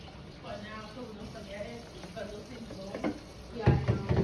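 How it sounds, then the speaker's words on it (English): A spoon stirs mashed potatoes made with milk and butter in a pot, giving soft, wet scraping and squelching, with a louder thick stir near the end and quiet talk underneath. "you want to just start to stir a little bit just to get the mashed potatoes moving around"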